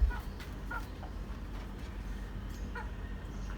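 Aseel and Misri silver hens in a coop, giving a few short, nasal clucks spaced irregularly over a steady low rumble of background noise.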